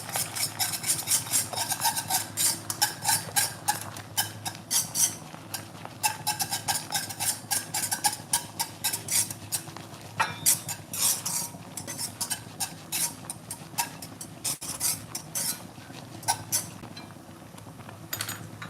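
A spoon scrapes and stirs tomato sauce thickened with cornflour in a pan, with continuous rapid rubbing and rasping strokes, close and fairly loud, with no talking.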